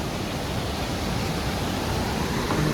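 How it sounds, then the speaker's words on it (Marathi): A full waterfall at Rambada on the Kedarnath trek roars as a dense, steady rush of water that stays loud and unbroken throughout, with no voices over it. "इकडं असा हा पूर्ण धबधबा"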